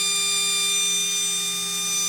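A 540 brushed electric motor running at high RPM gives a steady, unbroken high-pitched whine with a constant tone, close and alone.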